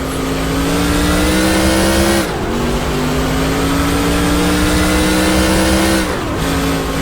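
A race car engine in the NR2003 racing game, Busch North NASCAR series, revs high and steady, dropping abruptly twice as the driver shifts gears, then climbing again, loud and close with no talk.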